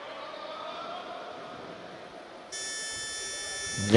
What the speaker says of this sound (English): buzzer buzzes, and a good lift that's been called there.